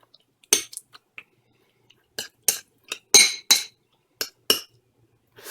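Soy sauce marinade stirred in a bowl, heard as a series of light, sharp clinks of a utensil against the dish in irregular bursts, fairly close, with quiet gaps between and no talk.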